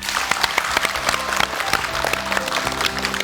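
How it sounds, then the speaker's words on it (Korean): A studio audience claps at the close of a 1997 KBS Korean broadcast segment honouring the country's first DJ, with dense steady applause over faint music or background tones. "여러분 감사의 박수 보내주십시오"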